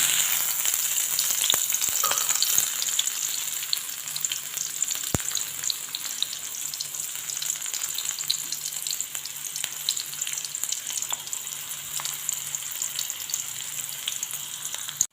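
Chopped shallots fry in coconut oil for a Kerala fish curry, giving a steady, close, crackling sizzle with fine popping throughout, one sharp tick partway, and no talking.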